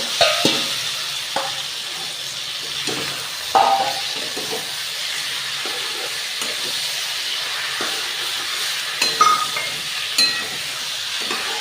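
Marinated chicken frying in a pan with onion and chilli gives off a steady broad sizzle and hiss, with occasional louder stirring scrapes and clatters at intervals, close and with no talking.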